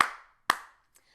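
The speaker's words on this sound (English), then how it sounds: "Give a little clap." Two sharp hand claps ring out close by about half a second apart, followed by a faint, softer tap, with silence in between.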